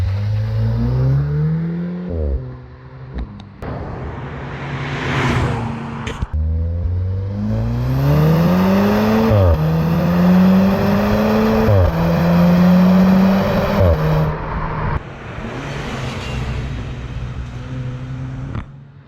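A Mark 7 Volkswagen Golf R, four-wheel drive with about 300 horsepower, pulls away and accelerates through several gears. Engine note rises and drops with each shift, loud and close, no talking.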